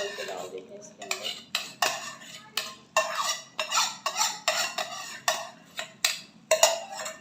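A spoon stirs dry milk paste in melted ghee in a pan during gajar ka halwa preparation, giving a string of quick, close metallic scrapes and clinks in an uneven rhythm with brief pauses.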